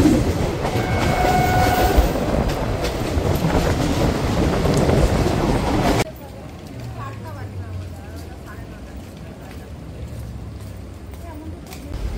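The 03161 Kolkata–Digha special train rumbles along at speed with rhythmic wheel clatter, loud at first, then abruptly quieter halfway through as a softer, muffled running sound continues.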